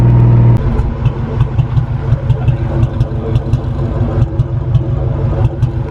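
A Ford Mustang engine idles roughly after a spark plug blowout, a close, loud low rumble with an uneven, pulsing beat and repeated ticking misfires throughout.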